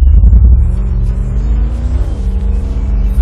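Engine of a car in a garage-unlocked racing video game, sharing sounds with the M12 Bolt: a loud, steady low rumble that swells, shifts pitch around midway, then holds, with no talking.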